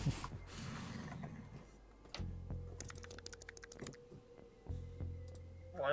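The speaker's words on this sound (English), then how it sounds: "That was me hitting my tongue against my teeth like this" A person clicks their tongue against their teeth in a quick run of sharp, close, dry clicks, with low background hum and a few louder knocks.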